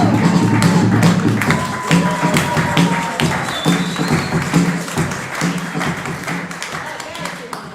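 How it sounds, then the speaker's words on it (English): Audience at a live comedy improv show applauding the cast, a dense wash of clapping that stays steady and loud throughout. "give yourselves a round of applause. And keep it going to the cast of the show"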